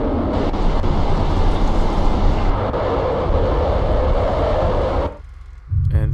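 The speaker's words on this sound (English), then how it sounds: "And this is where Chloe gets run over by a train" A train rushes past in the video game Life is Strange, a loud, steady rumbling roar that holds for about five seconds, then drops away abruptly before a softer sound returns.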